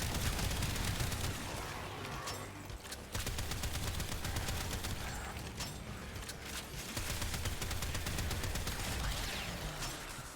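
Rapid weapon fire from the video game Warframe, dense and loud, with bursts of shots rattling almost nonstop and only a brief dip in the middle.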